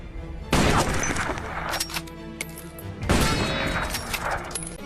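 Sniper fire in a war film set in the Iran–Iraq war, heard as two loud, sharp bursts about two and a half seconds apart, each followed by a ringing, reverberant tail.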